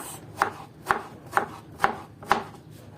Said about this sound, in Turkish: patlıcanlarımız boyutları çok büyük olmayacak şekilde küçük parçalar halinde diliyoruz